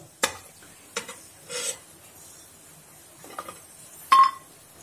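Cashews fry in oil in a pot and are lifted out, making faint sizzling between a few sharp clinks and scrapes of a metal spoon against the vessel; no talking.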